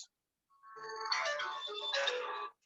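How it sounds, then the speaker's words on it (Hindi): A phone rings during an online webinar meeting, a bright electronic ringtone with layered tones that starts after a short pause and rings continuously for about two seconds, fairly loud and alone with no talk over it. "जफर साहब अपना फोन म्यूट कर दें, आपकी वजह से डिस्टरबेंस हो रही है इस मीटिंग में।"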